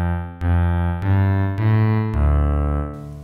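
A PPG WaveMapper 2 wavetable synthesizer voice built from 128 wave periods plays a rich, buzzy tone in four or five sustained notes with sharp onsets, steady and loud with no talking.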